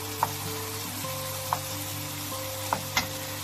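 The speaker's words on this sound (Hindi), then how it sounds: "अब कोफ्तों को हल्का सा ब्राउन करती हूँ, उनकी साइडें चेंज करती हूँ" Koftas frying with garlic and onion are turned in the pan, a constant sizzle with a low steady hum underneath and a few sharp clicks of the utensil at intervals.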